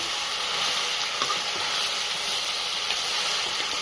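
Loud, continuous sizzling and hissing of mutton being stirred with masala in a hot frying pan, close and steady throughout, with faint scraping and no speech.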